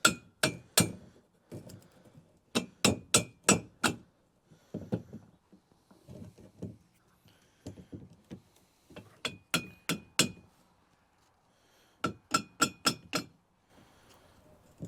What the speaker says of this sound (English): I'm gonna try and smack that washer and see if we can't get some movement.